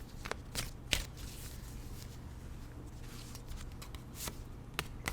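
A Rider tarot deck being shuffled and cards drawn, giving soft close papery rustling with several sharp card snaps and flicks spaced through, over a faint low background hum.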